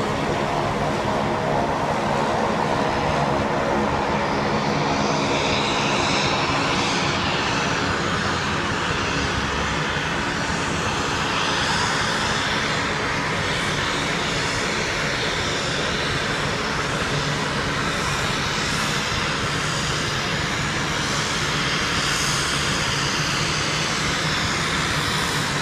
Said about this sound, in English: another one is landing.